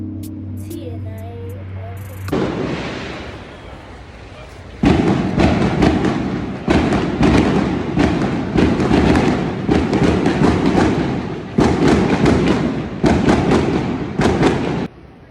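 A cannon fires in Malta: a sudden heavy boom, then a run of sharp thumping bursts over blustery outdoor rumble.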